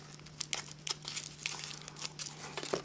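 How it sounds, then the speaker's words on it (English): Tape being pulled and wrapped around a folded paper ball for a homemade Irish drum, heard as close, repeated crinkling and sticky tearing crackles with a steady low hum underneath. "We're wrapping tape to hold all the sides together to make the ball stay."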